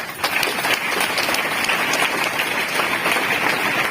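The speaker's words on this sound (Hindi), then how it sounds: "जोरदार ताली बजाओ।" Loud, dense clapping from a crowd of students at a motivational lecture, applauding a gold medalist; steady, close and continuous throughout with no talking over it.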